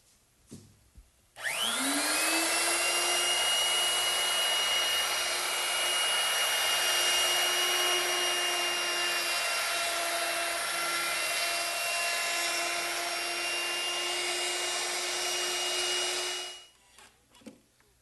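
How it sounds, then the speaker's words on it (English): An electric router fitted with a chamfering bit spins up and runs steadily along the edges of a wooden workbench, a loud high whine with a sharp start, then winding down and stopping. "I think I'll ease those using a chamfering bit mounted in my router"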